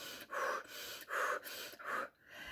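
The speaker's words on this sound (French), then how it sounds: "Il y a des techniques de stimulation de respiration intense où on va vous faire ça." Three quick, forceful breaths from a demonstration of an intense stimulating breathing technique, each a loud, rushing gasp in steady rhythm, close and with no talk.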